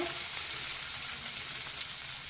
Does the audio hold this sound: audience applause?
no